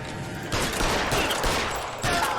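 Gunfire from the crime video game LA Noire: police open fire in bursts, with dense, noisy shots swelling in two or three waves over a steady game background.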